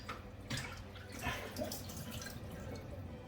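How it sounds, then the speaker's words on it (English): Water draining and dripping from a batch of homemade butter, a soft irregular trickle with scattered drips and splashes at close range, steady throughout with no talk. "Next stage is going to be draining the water out of it."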